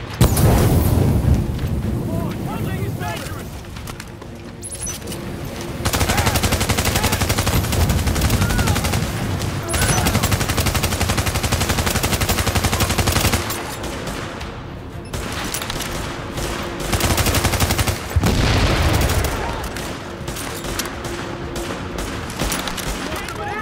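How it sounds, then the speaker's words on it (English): Heavy gunfire in Tom Clancy's The Division on Xbox One: long stretches of loud, rapid automatic fire broken by short pauses, with booming impacts mixed into the dense barrage. "If I can't get them with my grenades, I'll just get them with my bullets."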